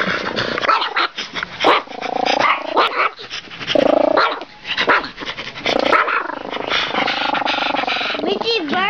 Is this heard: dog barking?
yes